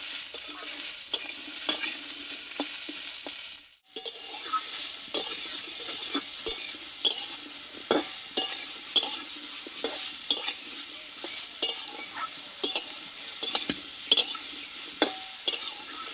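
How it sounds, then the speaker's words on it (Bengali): Green beans and potatoes sizzle and fry in hot oil in a pan while being stirred, a steady close crackle broken by repeated scraping clicks of the spoon, with no talking. "অল্প আছে একটু এটা ভেজে নিতে হবে এটা কাঁচা গন্ধটা চলে যায়"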